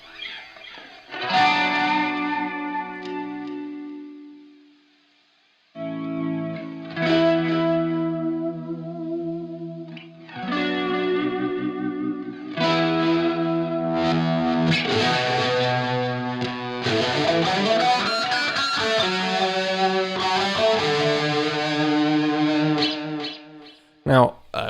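Electric guitar played through a LongAmp Roxanne Flanger pedal and a heavy distortion, sustained chords and bends swirling with sweeping flanger movement and echo, with short gaps between phrases.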